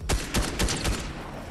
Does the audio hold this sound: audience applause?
no